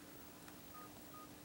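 Keypad tones sound on a mobile phone's dialing pad in the GTA IV video game, a few short faint beeps spaced apart over a steady background hiss.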